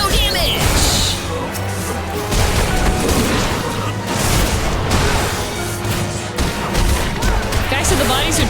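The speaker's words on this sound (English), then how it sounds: "Oh my god, explosions. My special technique." Explosions from a special attack in a Final Fantasy XIV battle against Garlean forces, a dense run of booming, crackling blasts layered under game music and effects for the whole stretch, loud and continuous.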